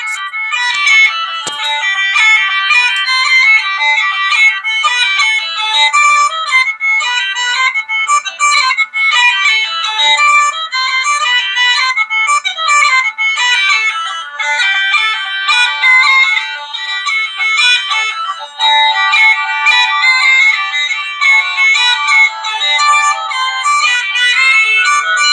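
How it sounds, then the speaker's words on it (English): Irish uilleann pipes play a continuous, reedy, bright melody with quick ornamented notes and no low drone, sounding close and fairly loud throughout. "This is the sound of an Uilleann pipe."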